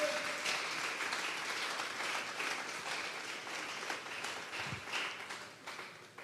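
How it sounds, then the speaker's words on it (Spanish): Church congregation applauding during a Sunday afternoon service, a steady wash of many hands clapping at moderate distance that slowly fades, with no talk over it. "Denle un fuerte aplauso pues al Señor esta tarde."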